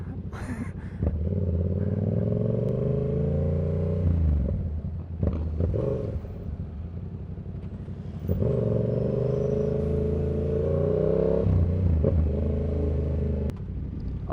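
A Yamaha R7 motorcycle rides through London with a quick shifter, its engine rising in revving pulls with brief dips at gear changes, loud and close, with wind noise throughout.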